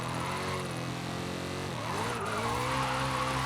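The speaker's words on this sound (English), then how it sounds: "Let's go back and try that drift again." Car drifting in Forza Horizon 5, a steady engine drone with long, loud tire squeal that bends and rises in pitch as the car swings through a corner, close and continuous throughout.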